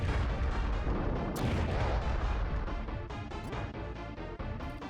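Bombs detonate in rapid succession in Super Bomberman 5, loud crunchy retro explosions stacked over a rhythmic chiptune beat, continuous and dense throughout.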